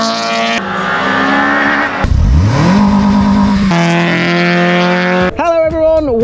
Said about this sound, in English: The hills are alive with the sound of VTEC.